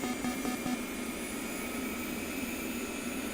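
An A-10 jet turbine engine spools up with a loud, continuous roar and a high whine, holding steady without any voices.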